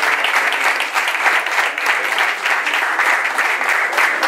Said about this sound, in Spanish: Vamos a darles un aplauso a los niños, a las madres de familia